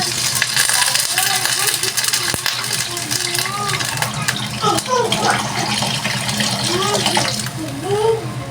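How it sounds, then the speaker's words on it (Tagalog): Water pours and splashes into a pot of tomatoes and onions for fish soup, with gurgling, bubbling sounds close by, while faint kitchen noises continue in the background. "lagyan muna natin ng tubig"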